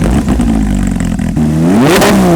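A Porsche GT3 RS fitted with an aftermarket Sharkworks exhaust revs loudly and close, its engine tone climbing sharply near the end before easing back down.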